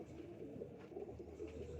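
Pigeons for sale coo softly and continuously, a low rolling murmur of several birds close by with no talk over it.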